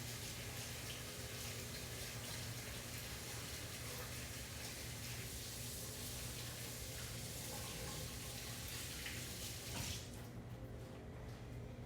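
Tap water runs continuously as hands are washed beneath it, a steady close splashing rush for nearly the whole stretch, thinning out in the final seconds.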